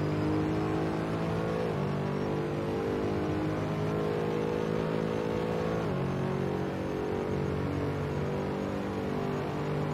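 Mercedes SLS GT3 race car in Assetto Corsa at Monza: a steady, droning engine note held at high revs, with two brief pitch drops as gears shift, continuous and fairly quiet.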